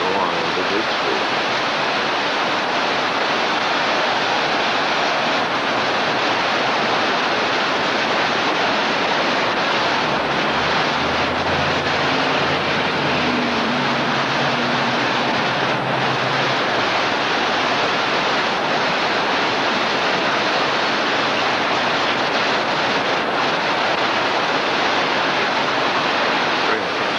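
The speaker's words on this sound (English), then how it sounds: "It's the water as it comes down out of the hills." Water running down out of the hills in an Alaskan town makes a constant broadband rush like a stream or small falls, steady and loud throughout with a low hum briefly beneath it.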